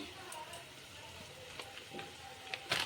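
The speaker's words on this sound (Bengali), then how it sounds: "তাতে কয়েকটা কাঁচা লঙ্কা চেড়ে দিয়ে দিচ্ছি কিছু জিরের গুঁড়ো দিয়ে দিচ্ছি" Green chillies and cumin powder sizzling in a hot pan as a no-onion, no-garlic paneer curry is cooked, with a soft continuous fry broken by a few brief crackles and a louder burst near the end.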